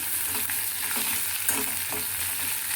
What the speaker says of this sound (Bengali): হালকা একটু লাল লাল করে ভেজে নেবো